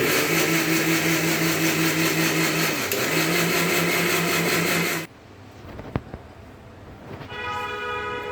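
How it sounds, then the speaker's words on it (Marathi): A mixer grinding custard powder, sugar and milk, a loud steady motor whine running for about five seconds before cutting off, followed by a click and a fainter spin-down. "आणि हे थोडं दूध टाकून मिक्सरमधनं फिरून घेऊया"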